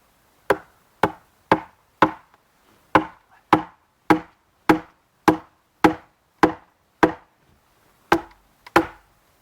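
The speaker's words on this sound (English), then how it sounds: "the sound of an axe chopping wood in the woods" Repeated sharp thuds of an axe striking wood in the woods, about a dozen blows at a steady rhythm with brief pauses, crisp and fairly close.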